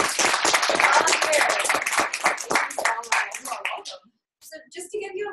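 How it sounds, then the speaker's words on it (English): Applause from an audience at a direct sales presentation, loud and dense at first, then thinning into scattered claps before a short silence and a few final claps. "So please, a tough round of applause."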